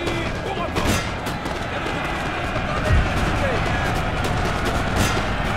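Musket volleys ring out in a Napoleon Total War battle, with scattered cracking gunfire and dull booms bursting through a rumbling, crowded battlefield din while someone talks over the action.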